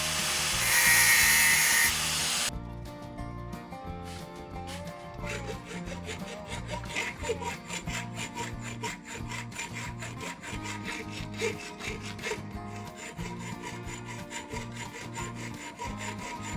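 Steady rapid rasping and grinding as a small metal tube is filed and ground smooth for a homemade sandblaster, continuous close scraping strokes after a brief louder burst at the start.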